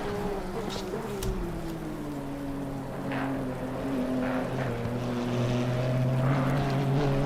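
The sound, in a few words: rain in a racing video game at Donington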